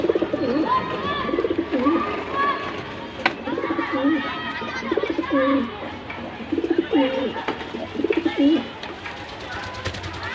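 Pigeons kept on a home balcony coo repeatedly in soft, rolling phrases close by, with a person talking intermittently beneath the calls.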